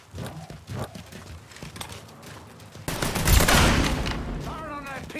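Gunfire rattles through a video game shootout, scattered shots over the first seconds, then a dense, loud burst of firing from about three seconds on, with horse hooves and a voice shouting briefly near the end.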